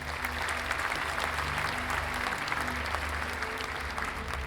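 Steady, continuous applause from many hands, even and sustained without breaks, set over a low droning hum.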